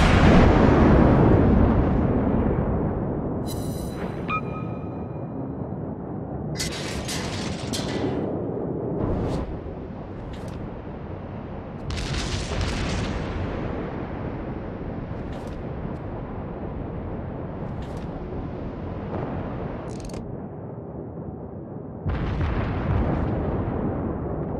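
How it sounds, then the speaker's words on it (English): Repeated booming explosions from a World of Warships naval battle as an enemy cruiser is destroyed, heavy rumbling blasts with sharp bursts layered over continuous loud low battle noise. "Destroyed an enemy cruiser."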